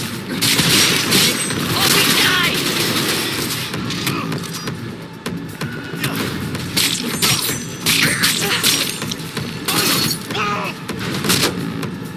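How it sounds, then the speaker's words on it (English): Dense, loud combat in the Cyberpunk 2077 video game, with bursts of gunfire and a grenade blast over continuous action noise, while a person shouts over it. "Fucking grenade!"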